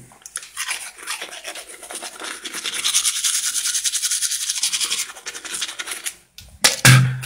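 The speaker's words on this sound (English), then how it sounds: "Don't do the work, let the toothbrush do the work for you." Bristles of a toothbrush scrub rapidly and continuously, a close, loud rhythmic scratching that stops abruptly before a short clatter at the end.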